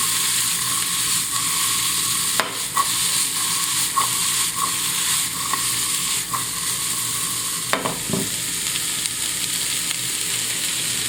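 Peppers being tossed and stirred in a hot frying pan: a steady close sizzle with intermittent scraping and clinking from the utensil against the pan, with no talking.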